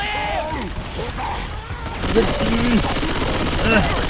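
Gunfire in the zombie shooter Left 4 Dead 2 rattles in a loud, continuous burst, mixed with game noise and a person's excited voice.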